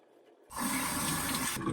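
Warm running water from a tap splashes into cupped hands during a face wash at a sink, a steady close rushing pour starting abruptly and continuing alone.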